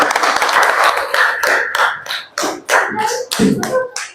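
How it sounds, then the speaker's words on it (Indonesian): Classroom applause for a group of students after their presentation, uneven bursts of close, sharp hand claps from a small group, with brief pauses and a rhythmic cluster near the end. "Tepuk tangan buat kelompok 1."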